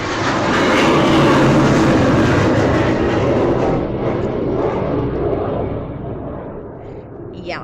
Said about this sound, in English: that was an airplane.